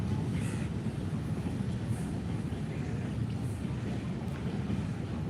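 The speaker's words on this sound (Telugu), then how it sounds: "ట్రైన్ వెళ్తుంది చూడండి." A passing train heard from outdoors as a continuous low rumble and rushing noise, steady and fairly loud for several seconds, mixed with wind buffeting on the microphone.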